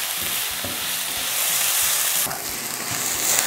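Ginger and onion sauté in a pan for a meatless ginataang sitaw at kalabasa, giving a steady close sizzle with occasional stirring scrapes and clacks.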